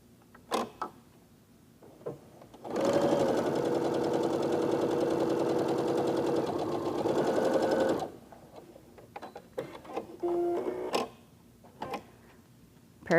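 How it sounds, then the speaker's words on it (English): Sewing machine stitching a quarter-inch seam through white quilt fabric with a pinked edge, a steady close whirring run of about five seconds framed by quieter handling clicks before and after. "then we'll sew a 1/4-inch seam"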